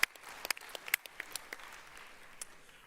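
Sparse, faint applause from the TUC Congress audience for a musician, with scattered individual claps that thin out after a few seconds.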